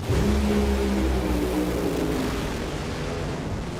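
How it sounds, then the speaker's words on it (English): A loud, roaring blast from an exploding NHRA drag racing car engine, a dense low rumble with engine tones sweeping down, fading slightly toward the end. "Big explosion!"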